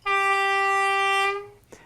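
A low-tone horn from a sound-equipped Accurascale Class 31 model locomotive sounds one sustained, steady blast of about one and a half seconds, close and clear, then stops abruptly with a faint click.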